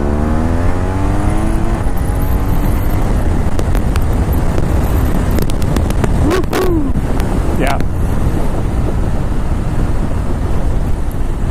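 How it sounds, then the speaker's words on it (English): A motorcycle on its first cold-weather ride of the year accelerates, its engine note climbing beneath constant heavy wind roar, with a brief spoken word from the rider. "how a motorcycle accelerates"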